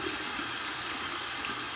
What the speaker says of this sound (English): Run it under some cold water here and see what's what.